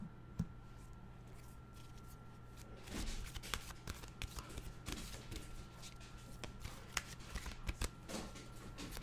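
Oracle cards are shuffled close by in quiet, soft papery riffles and taps over a faint steady hum.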